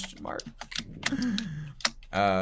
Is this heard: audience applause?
no